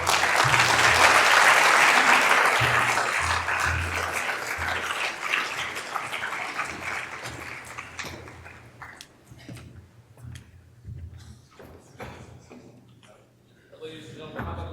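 A conference audience at an artificial intelligence business talk applauds, loud dense clapping that swells early and then thins and fades, while a voice starts speaking over the tail end.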